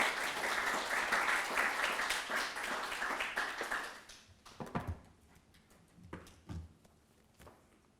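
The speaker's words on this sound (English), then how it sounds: "can we just have a round of applause as Ria sorts the slides out?" A round of applause from an academic audience at a presentation and book launch, brisk clapping for about four seconds that then stops, followed by a few footsteps and knocks in a quiet room.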